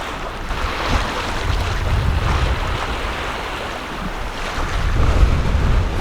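Loud, steady wind roars while an Oceanis yacht sails at sea on staysail and second reef in about 20 knots of wind. Rushing water and wind buffeting on the microphone run continuously, swelling slightly toward the end, with no talk.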